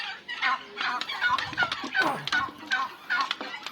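Poultry calling on a new turkey farm, with repeated clucks and squawks from several birds, likely including turkeys, in quick irregular bursts close by, with no talk over them.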